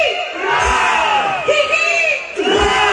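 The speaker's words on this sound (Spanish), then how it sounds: "3 urras para mis carnavaleros ayacajinos." A carnival crowd from Ayacucho bellows three loud, rising hurrah shouts in quick succession, each a massed cheer of many voices rolling up and fading, close and forceful.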